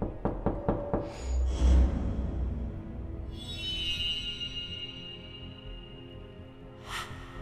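Knocking on a door in a Roblox horror game: a quick series of sharp raps at the start, followed by eerie tonal game sounds and a faint later hit.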